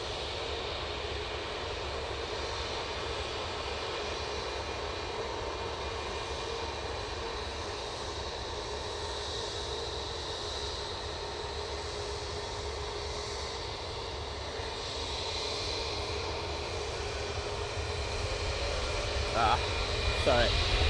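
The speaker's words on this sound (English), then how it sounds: "Jet2 A321 Neo has come on via Victor Bravo" A Jet2 Airbus A321neo airliner taxis with a constant loud engine roar and whine that continues throughout, slightly rising toward the end, while a voice talks faintly underneath.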